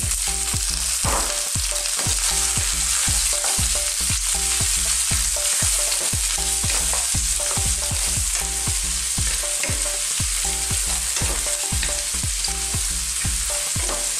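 Garlic, onion and chili sautéing in a pan for Filipino chicken adobo with long beans, a loud continuous sizzle of hot oil with repeated sharp scrapes and taps of a spatula stirring, no voices.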